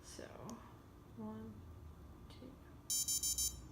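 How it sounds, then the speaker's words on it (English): An Orbit key finder gives its activation signal, four short, sharp beeps in quick succession near the end, preceded by quiet talk and faint handling noise. "We've got the beep that time."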